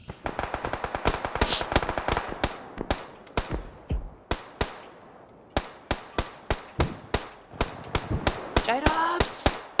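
Gunfire in PlayerUnknown's Battlegrounds, sharp single shots and quick bursts in an uneven rhythm, loud and close, with a short pause midway and people talking over the shooting.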